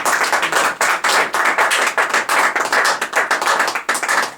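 Church congregation clapping in a steady rhythm, a dense run of sharp hand claps filling several seconds with no voices over it.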